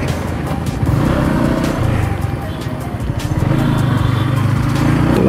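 Motorcycles riding on a road in a group that includes a Bajaj Dominar, with loud, close engine drone and steady rumble and gradually rising revs throughout.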